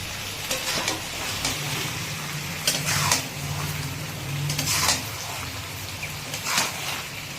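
Fish curry of hilsa with eggplant and nigella seeds being stirred in a pan, a steady sizzle with repeated scraping strokes of the spoon, close and moderately loud, no talking.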